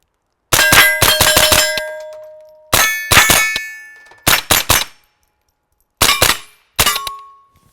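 CCI Mini-Mag rounds fired from a Banshee ring off steel targets in quick groups of rapid shots, each a loud metallic clang with a ringing ding that decays between the strings.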